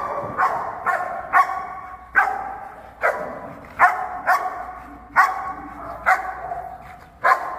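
A protection dog in executive protection attack training barks repeatedly in sharp, loud bursts, roughly one each second, close by with no talk over it.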